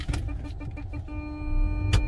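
A 2022 Mitsubishi Outlander in reverse triggers its automatic emergency brake, heard close up as a few soft clicks and thumps, then a steady electronic warning tone and a sharp final clunk.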